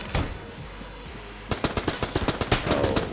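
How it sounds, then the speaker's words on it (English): Rapid submachine gun bursts in Enter the Gungeon ring out loud and close, a quick run of sharp repeated shots after a quieter opening stretch of game ambience. "So let's go with back to the submachine gun for now."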